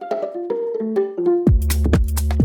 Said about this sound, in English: The main riff in my track is this plucky sounding harp